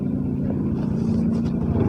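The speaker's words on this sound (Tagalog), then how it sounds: "habang nag-drive po ako ng motor." A motorcycle engine hums steadily and up close from the rider's position, with a low continuous drone and wind rumble and no talk, recorded through a cheap vlogging microphone while riding.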